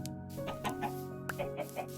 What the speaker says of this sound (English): Hello, Mr. Chicken.